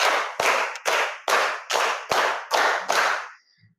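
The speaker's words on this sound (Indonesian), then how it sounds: "tepuk 4 2 kali" A group claps together in a rhythmic classroom clapping game, clapping four beats twice: eight crisp, evenly spaced hand claps, close and loud, with no talking.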